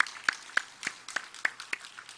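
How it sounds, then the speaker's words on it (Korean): A church congregation claps in unison during a Sunday morning service, about eight crisp, evenly spaced claps in a steady rhythm, moderately loud in a reverberant room. "영광의 박수 올리겠습니다"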